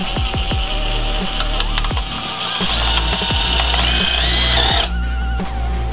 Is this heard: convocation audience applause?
no